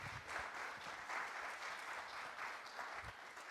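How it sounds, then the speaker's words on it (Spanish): A church congregation at a Sunday service applauds to welcome a guest, a steady wash of many hands clapping, fairly distant and sustained throughout. "Démosle un aplauso de bienvenida a doña Tere"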